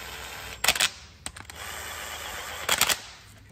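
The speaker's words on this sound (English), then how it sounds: "I'm gonna use my handy-dandy Milwaukee ratchet just to snug them up first." Short bursts of rapid clicking from a Milwaukee power ratchet snugging the bolts on the timing cover of a GMC Acadia 3.6L V6 engine, two main bursts with a brief one between them, close against a quiet hum.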